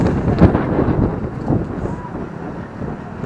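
Strong gusts buffet the microphone in a continuous low rumbling roar, loud and close, with faint voices underneath, on a motorcycle road trip in Tagaytay.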